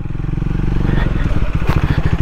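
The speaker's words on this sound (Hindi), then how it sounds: "बाइक की ना अच्छी से रनिंग इन हो रही है अब लग रहा है मुझे" A Triumph Speed 400 motorcycle engine runs during off-road riding at high altitude, giving a close, steady, throbbing low rumble that pulses continuously throughout.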